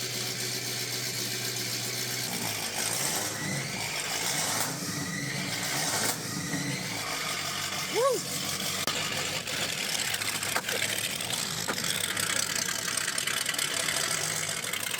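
Engine of a 1962 Mercury Monterey car running at a steady idle, a low continuous rumble at moderate distance with small irregular knocks and clatter.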